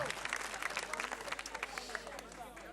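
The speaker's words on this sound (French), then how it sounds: "applaudissez très fort là les enfants" A crowd of young voices claps in a dense, continuous patter of applause, with some talk mixed in underneath.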